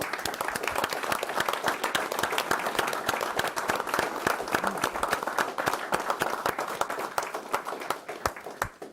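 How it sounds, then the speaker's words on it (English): A city commission meeting audience gives fire department chief officers a round of applause: dense, steady clapping from many hands that carries on for about nine seconds before thinning slightly at the end. "I'd like for you to give them a round of applause"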